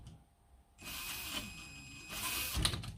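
An Axial XR10 RC rock crawler's electric motor spins up under throttle after a brief near-silence, giving a steady close mechanical whir with a rising surge toward the end.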